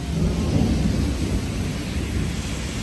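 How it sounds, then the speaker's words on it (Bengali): Heavy rain pours steadily at a roadside bus stop in Lake Town, a dense low roar with rumbling thunder mixed in, loud and continuous with no voices. "অবশেষে বৃষ্টি কোনো রকমই তো বন্ধ হচ্ছে না"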